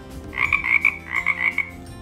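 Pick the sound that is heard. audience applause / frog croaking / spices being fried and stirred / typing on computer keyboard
frog croaking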